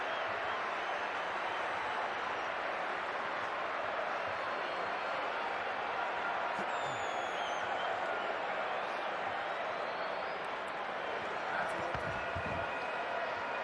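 A large rugby crowd in Rome at a Six Nations match between Italy and Scotland keeps up dense, sustained applause and cheering, a broad wall of clapping throughout, with no talk.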